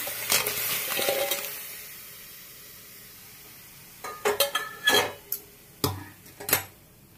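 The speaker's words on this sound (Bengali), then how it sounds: "আমি এর মধ্যে এবার এই ক্র্যাবগুলো সমেত সব ঢেলে দিচ্ছি।" Crab pieces and their sauce tipped into a curry pan, giving a run of sharp clattering and sizzling bursts in the latter half after a quieter stretch of background kitchen noise, with no talking.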